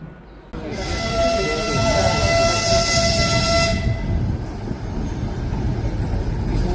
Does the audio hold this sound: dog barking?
no